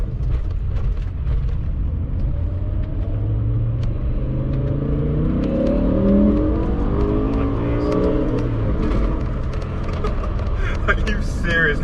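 BMW M5 with its V10 engine revving on an open road, a loud rising wail that climbs and shifts pitch through the gears over a rumbling base, with a voice mixed in.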